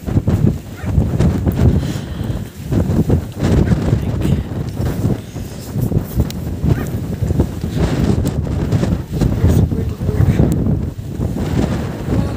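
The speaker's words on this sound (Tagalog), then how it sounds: "Oh, it's so windy." Strong gusty wind buffets the microphone throughout during an outdoor walk on a cold December afternoon, a loud continuous low roar with rushing swells, and faint voices are mixed in.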